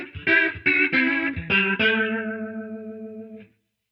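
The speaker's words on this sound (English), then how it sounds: "So here's the sound of the single rotary." A Line 6 Helix single rotary Leslie speaker effect plays on a short series of sustained chords, four or five choppy attacks followed by a long held chord with a swirling, wavering tone that fades out near the end.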